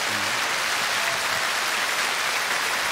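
A studio audience at a Korean national TV singing contest, the 30th-anniversary special, claps in a dense, steady wash of applause that stays loud and even throughout, with no voices on top.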